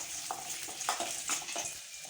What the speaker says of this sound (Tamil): சேர்த்துட்டு ரெண்டையும் ஒரு 30 செகண்டு போல் நீங்கள் வதக்குனீங்கன்னா போதும்.